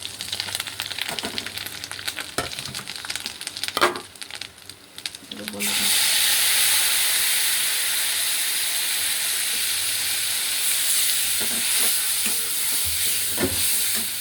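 Bay leaves, dried chillies and whole spices frying in a pan with a loud, steady sizzle that flares up partway through, preceded by scattered stirring and clatter.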